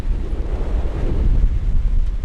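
A strong gust of wind from Hurricane Eta buffets the microphone with a loud, continuous low roar, steady and close, with no talking.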